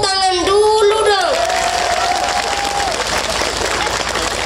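Audience at an Indonesian religious lecture claps and cheers loudly, a dense wash of applause. A voice sings or calls out a sustained tone over the crowd at the start.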